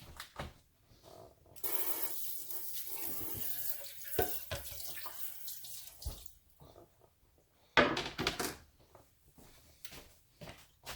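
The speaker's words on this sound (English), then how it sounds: "I'm going to rinse my hands off" Water from a running kitchen tap splashes over hands being rinsed in a sink while steak cooks, a steady rush with brief breaks and sharper splashes near the end.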